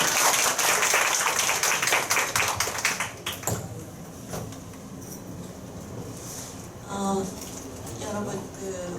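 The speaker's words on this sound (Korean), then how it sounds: "큰 박수 부탁드립니다." Applause at a women's committee workshop of a political party, loud rhythmic clapping from a room of people that fades after a few seconds, followed by a voice speaking.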